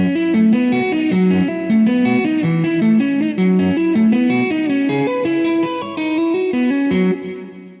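An electric guitar plays a slow lick in 19/8 time with power chords, distorted and drenched in effects and reverb, with a continuous, loud, close stream of shifting chord and note patterns.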